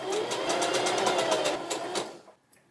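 Sewing machine stitching shirt fabric for fingerless gloves, a steady fast mechanical whir with regular needle clicks running close up for a couple of seconds before stopping.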